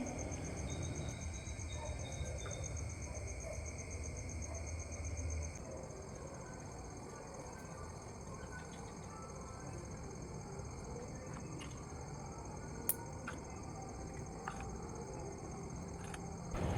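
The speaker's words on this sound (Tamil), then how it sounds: "விடிய காலையில் நேரத்தில் எந்த ஒரு சவுண்டும் இல்லாமல் அந்த தவளை சவுண்டு" Frogs call in the early morning during the Margazhi month, a steady faint chorus of continuous trilling that fills the whole stretch, with no voices.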